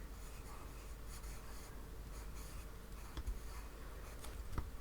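A pencil writing lettering on paper, producing a continuous soft scratching and rubbing with faint taps, close and quiet against low background hiss.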